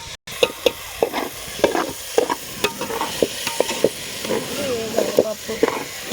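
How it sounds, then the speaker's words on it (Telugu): Moong dal frying in oil in a pan, a soft background sizzle broken by repeated sharp scraping and clinking stirs of a utensil against the pan, close and irregular. "మంచిగా ఫ్రై చేయాలి."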